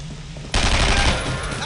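Heavy machine gun covering fire in the WWII shooter Brothers in Arms: Road to Hill 30 erupts after a quieter half-second and roars on as a dense, loud, sustained burst, with shouted battlefield voices faintly in the mix.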